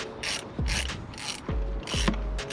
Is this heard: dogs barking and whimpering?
no